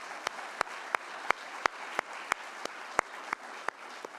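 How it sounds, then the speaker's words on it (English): Audience applause at a science talk anniversary celebration, a soft wash of clapping with a few sharp, evenly spaced loud claps standing out near the microphone. "Give them a huge round of applause."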